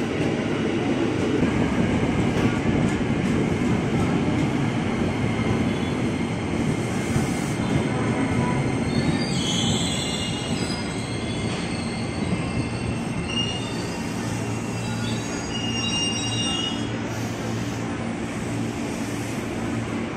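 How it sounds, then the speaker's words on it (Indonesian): A commuter train pulls in at the Bekasi station platform with a loud, continuous rumble of wheels and cars. High metallic squeals of the braking wheels rise in the second half, and no one speaks. "ini juga komuteran tujuan Kampung Bandan via Pasar Senen masuk jalur 5"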